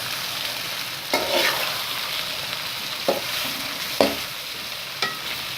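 Okra frying in ghee in a pan: a steady low sizzle with a handful of sharp spoon scrapes spaced about a second apart, close and with no speech.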